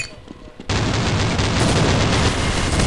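Rapid gunfire from the online shooter game Counter-Strike Online bursts in suddenly and stays loud and dense to the end, a sustained barrage after a brief quieter lead-in.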